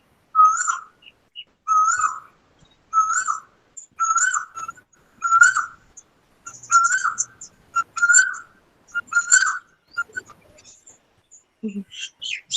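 A bird calls repeatedly in short, evenly spaced whistled bursts, clear and fairly close against a quiet background, over about a dozen seconds, with a faint low voice near the end.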